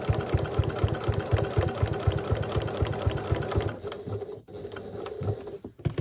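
A sewing machine stitches through thick fabric on top of a pouch pocket, a fast, steady mechanical chatter that runs for several seconds and then stops, leaving quieter handling sounds.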